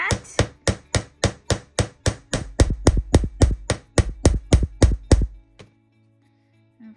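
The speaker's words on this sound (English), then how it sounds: "we're just going to hammer that nice and flat." A metal cicada necklace piece is hammered flat with about twenty sharp, evenly paced blows over five seconds, close and loud, the strikes growing heavier and more resonant toward the end before stopping.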